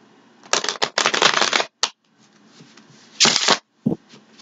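A deck of stiff playing cards being riffle-shuffled up close: two long crisp flurries of rapid slaps, then a few short bursts and a final quick riffle, with no voices.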